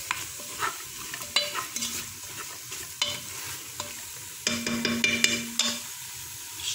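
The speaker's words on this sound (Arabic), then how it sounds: "دابا غنشوفوا الكوكوط فين وصلت، ها هي كنشحروا فيها كلها." Vegetables for a soup sauté in a pressure cooker with a steady sizzle, while a utensil stirs and clinks against the pot in repeated scraping strokes up close.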